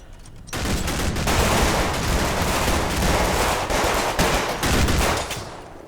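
Dense, sustained gunfire from a Combat Mission Battle for Normandy battle, loud rattling bursts of rifle and machine-gun fire overlapping into a continuous fusillade, with no talk.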